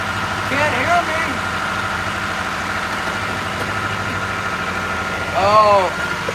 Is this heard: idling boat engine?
yes